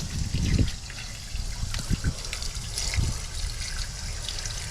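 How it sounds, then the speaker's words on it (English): Water from a kitchen sink trickles and gurgles down a newly cleared drain pipe, a close, continuous dribbling wash with small splashes. "I always like to try to flush that pipe out"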